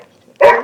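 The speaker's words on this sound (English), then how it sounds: "I don't know if you can hear my dogs talking to each other in the background." A dog gives a single short, loud bark close by, after a quiet moment.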